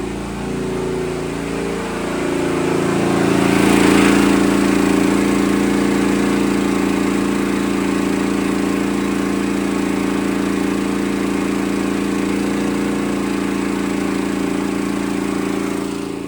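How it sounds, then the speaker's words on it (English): A Champion 8750W inverter generator runs on natural gas under a 3,000-watt load, giving a loud, steady engine drone with a low hum that swells slightly early on and then holds even throughout. "generator is running without issue"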